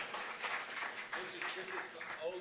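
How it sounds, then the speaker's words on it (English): Scattered audience applause at a talk on social media and the traditional press, a steady patter of clapping of moderate loudness, with some speech-like sound mixed in. "Yes, you can applaud."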